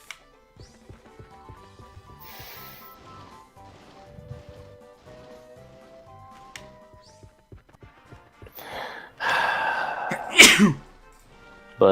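A single loud, sharp human sneeze near the end, after quiet video game music and soft clicking.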